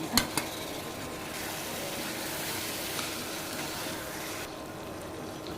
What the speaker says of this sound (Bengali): শিং মাছগুলো দিয়ে দিয়েছি।